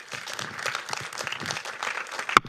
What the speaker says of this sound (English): Another round of applause for Alex, VP of Inflection.